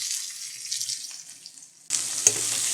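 Onions with mustard seeds sautéing in oil, a hiss that fades and then jumps louder as stirring resumes, with a single sharp clink partway through.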